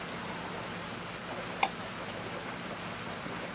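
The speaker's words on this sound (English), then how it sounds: "It's raining, ladies and gentlemen." Steady rain falls, a dense even hiss with one brief, sharper tick from a drop striking a surface near the middle.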